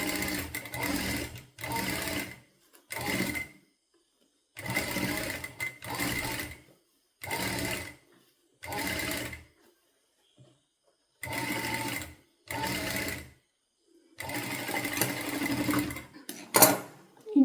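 A sewing machine stitches the sleeve of a child's top onto the body in about ten short, close bursts of whirring separated by brief silent pauses, with no talking.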